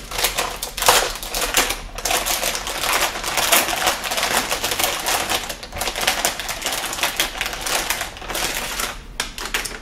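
A liquid-cooled Titan X Pascal graphics card is unwrapped from its packaging, giving dense, continuous crinkling and rustling of wrapping with scattered sharp crackles, close and fairly loud, with no talking.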